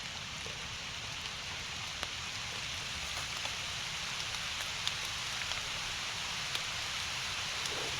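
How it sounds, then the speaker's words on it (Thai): Steady rain falls over a coffee garden, a dense continuous hiss with a few sharper drops hitting nearby surfaces and no voices. "ฝนก็กำลังตก"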